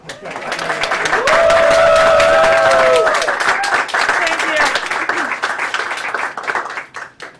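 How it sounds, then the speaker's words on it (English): An audience claps in a round of applause at an outdoor event during removal of the Robert E. Lee statue in Richmond, loud and sustained for several seconds before tapering, with a voice speaking briefly over it. "how about a round of applause for her?"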